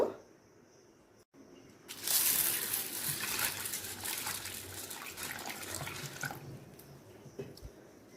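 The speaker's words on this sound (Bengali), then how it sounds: "ছোলার ডালটাকে প্রথমে ভালো করে ধুয়ে নিয়ে সেদ্ধ করতে দেব" Chana dal being rinsed in water for a Bengali dal, a steady splashing and swishing with dripping that starts after a short quiet pause and keeps on fairly close and loud.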